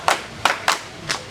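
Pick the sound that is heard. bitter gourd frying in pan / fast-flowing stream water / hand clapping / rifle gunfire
hand clapping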